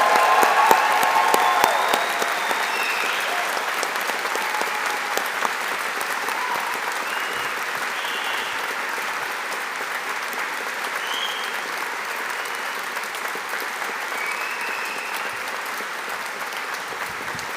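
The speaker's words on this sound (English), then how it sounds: "give our graduates of 2026 another round of applause" A large audience at a university graduation ceremony applauds steadily, dense continuous clapping filling a room, loudest at the start and then holding level for many seconds.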